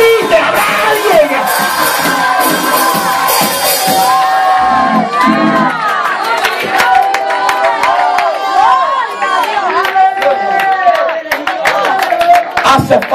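A church congregation at an evangelical service shouts and whoops together, a loud continuous crowd roar with cheering and scattered clapping throughout.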